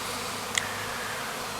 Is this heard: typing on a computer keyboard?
no